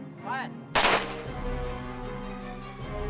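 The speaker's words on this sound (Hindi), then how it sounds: "कैसे हमारी ये वीर बेटियां एक के बाद एक अचूक निशाने लगा रही हैं।" Women commandos firing at targets on a shooting range: a single loud, sharp gunshot followed by a long ringing decay under a steady musical bed.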